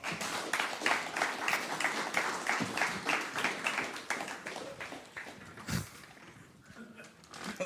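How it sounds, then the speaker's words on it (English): Applause from the audience at a Christchurch hip hop summit, a dense patter of many hands clapping steadily throughout, with brief sharp knocks near the end as it thins out. "why don't we give both of these men a round of applause"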